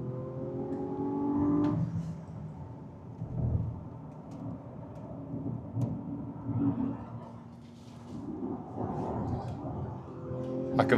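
A Hyundai IONIQ 6 N accelerates hard, its engine tone rising and falling through shifts under a heavy rumbling drone from inside the cabin.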